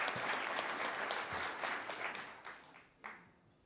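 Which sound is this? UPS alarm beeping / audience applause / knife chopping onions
audience applause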